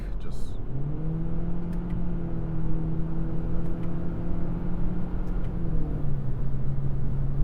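A 2026 Toyota Corolla XSE drives with a steady engine drone, its pitch stepping down near the end as a paddle shift drops the revs, under constant road and cabin noise.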